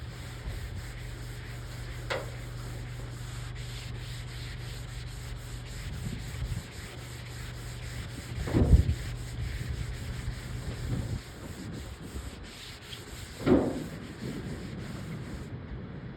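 Hand sanding a 1964 Chevy Impala convertible trunk lid with 180 grit paper, a soft steady rubbing hiss over a low hum, with a few louder scuffs and knocks.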